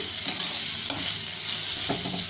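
Pointed gourd and potato pieces frying in a pan, a steady close hiss of sizzling oil broken by a few soft stirring scrapes, with no voices.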